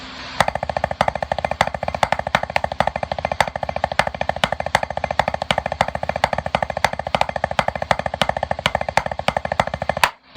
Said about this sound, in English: to play a paradiddle party, it's just groups of paradiddles with an accent pattern that sounds cool